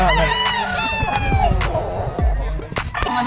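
Battle stag gamefowl, a late-born national banded rooster of the Lino Mariano line, crowing with drawn-out harmonic calls at a farm, mixed with other birds and cat-like meows nearby throughout.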